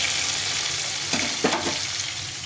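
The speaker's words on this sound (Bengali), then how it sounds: "টমেটোটা ভাজা হচ্ছে" A large tomato fries in a pan with tempered spices, a steady close sizzle with a few brief scraping stirs near the middle, no voices.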